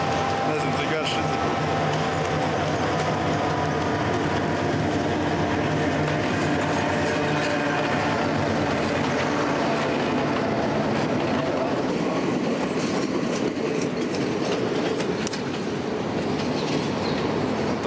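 A train crosses the Nine Arches Bridge in Ella, Sri Lanka, its wagons rumbling and clattering past at close range in a long, steady run, with occasional wheel squeal.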